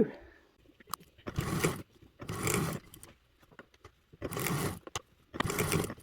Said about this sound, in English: So over to the sewing machine we go.